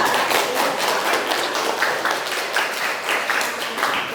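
A group claps in a brief burst of applause, fairly close and lively, the claps blending into a dense patter for a few seconds.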